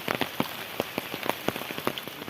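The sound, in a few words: heavy monsoon rain falling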